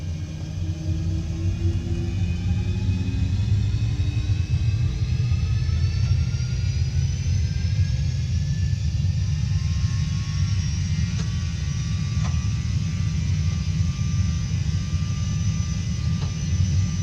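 A Boeing 737 NG's engines spool up before takeoff, a loud, continuous low rumble with rising whining tones that climb steadily throughout.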